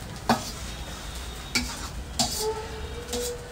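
Flattened rice (chira) stir-fried with vegetables in oil in a pan, with four sharp spatula scrapes and clinks spaced about a second apart over a low, soft sizzle, close and quiet with no talking.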